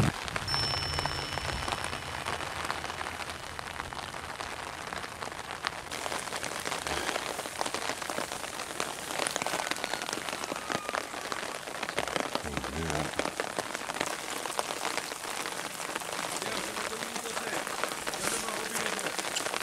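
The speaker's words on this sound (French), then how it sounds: "Ce qui serait bien, c'est qu'il s'arrête de pleuvoir, tu crois pas?" Rain falls steadily on a hiking trail in the upper Var valley, a constant patter of drops on surfaces that continues throughout, with a few faint voices.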